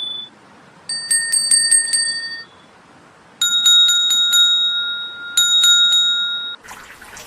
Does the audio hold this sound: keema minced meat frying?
no